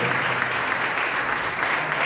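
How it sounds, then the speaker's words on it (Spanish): A church congregation at Casa de Dios in San Luis applauds loudly, a thick continuous roar of clapping sustained evenly across the short stretch. "dense un fuerte aplauso a usted, a su hermano que está ahí a su lado"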